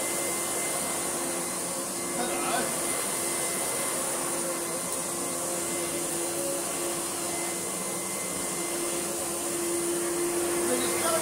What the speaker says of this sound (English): Let us use the vacuum cleaner on this rug